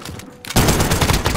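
Rapid automatic gunfire in a video game match, a loud, dense burst that starts abruptly after a short quieter moment and continues steadily to the end.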